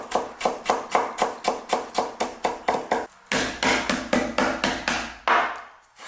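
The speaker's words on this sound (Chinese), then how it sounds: "再给它切细丝。" A knife chops fresh ginger slices into thin shreds on a cutting board, with quick, even strokes in a steady run of around twenty close, crisp hits, a brief pause, then more chopping that slows and fades.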